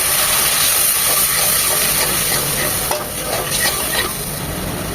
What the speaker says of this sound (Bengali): তো পানি দিয়ে মশলাগুলো কষিয়ে নেবো